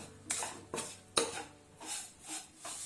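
Spoon scraping and stirring coconut burfi mixture with sugar in a pan, a series of rhythmic scrapes about every half second, fairly quiet and close, no talking.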